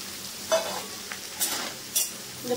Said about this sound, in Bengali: একটুখানি নাড়িয়ে এবার আলু ভাজাগুলো দিয়ে দেবো আর সয়াবিনগুলো দিয়ে দেবো